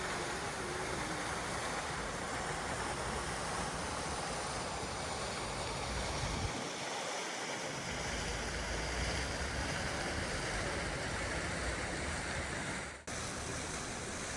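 A water fountain in Berlin splashes in a dense, steady rush throughout, close and loud, with no voices.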